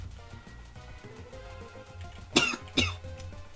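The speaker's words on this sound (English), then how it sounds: "And I'm still coughing." Two sharp, close coughs in quick succession break through soft background music.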